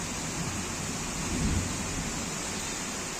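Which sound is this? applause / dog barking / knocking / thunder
thunder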